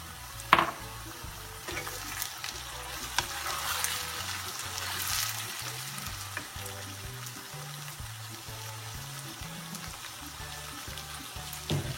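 Small shrimp sizzle quietly in a pan with onions fried light golden, a soft steady frying hiss with a few faint clinks and stirring sounds and no talk.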